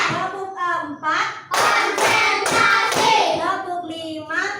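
Schoolchildren clap a counted pattern in a classroom, a run of sharp group claps in steady rhythm mixed with chanting voices, close and fairly loud.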